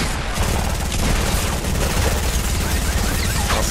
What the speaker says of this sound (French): J'étais au corps à corps sur lui avec mon pistolet mitrailleur et les balles ne touchaient pas.